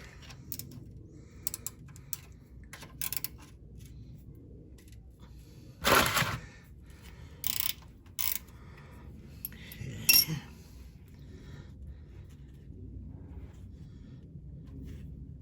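A wrench works on the oil strainer under a VW Type 4 engine with a 13 mm fitting, giving sparse metallic clicks and clanks, a few sharper bursts of rattling between quiet stretches.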